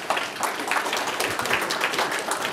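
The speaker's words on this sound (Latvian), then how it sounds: "Sagaidām ar aplausiem!" Steady, dense audience clapping fills a conference hall as a cybersecurity center director is welcomed to the stage, continuous and fairly loud with no voices over it.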